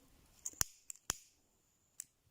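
Scissors snipping thread in needle lace work, two sharp close snips followed by a few lighter clicks of the blades in a quiet room.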